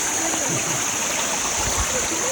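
Creek water rushing steadily over rocks near a family cabin, a close, continuous broadband wash with small splashes and no pauses.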